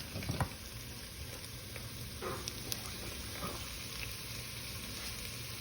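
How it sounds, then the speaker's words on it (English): Sausage, bacon and peppers sautéing in a skillet give a steady low sizzle, with a few soft scraping stirs near the start and faint clicks of a utensil against the pan throughout; no one speaks. "I am going to stir that around."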